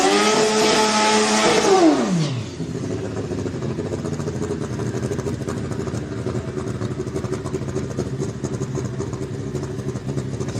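A Kawasaki ZX14 drag-racing motorcycle on a D&G chassis screams loudly at first, then its pitch drops sharply as it pulls away, leaving a steady distant engine drone and track ambience for the rest, no voices.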